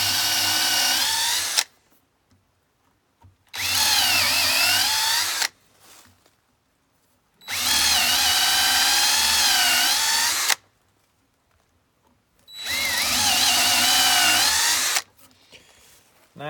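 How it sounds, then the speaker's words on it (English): Power drill boring holes in logs for growing shiitake mushrooms: four loud whining bursts of a few seconds each, with the pitch dipping as the bit bites into the wood, separated by short quiet gaps. "So, get all these holes here drilled."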